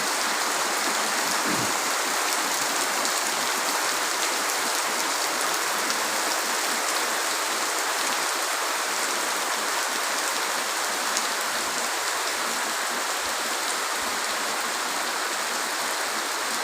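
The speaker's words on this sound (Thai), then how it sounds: "ฝนก็ลงมาอีกรอบหนึ่งครับ อันนี้ตกลงมา" Heavy rain pours down at a Buddhist temple site in Chae Hom, Lampang, a steady, even hiss of drops beating on surfaces that holds unchanged for well over fifteen seconds, with no voices.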